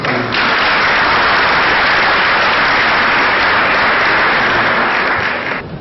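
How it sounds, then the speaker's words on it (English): Audience applause at the Salam Pakistan stage event, a dense sustained wash of many hands clapping loudly and evenly for about five seconds before tapering at the end, with no voices over it. "please have a clap for the local."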